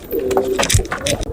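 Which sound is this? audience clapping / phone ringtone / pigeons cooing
pigeons cooing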